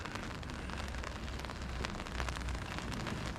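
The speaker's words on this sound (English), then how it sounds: "You'll hear from the background noise that it's started to rain now" Rain falling outside Chester Cathedral in England, a steady broadband patter filling the whole stretch evenly with no clear breaks, close around the listener and moderately soft.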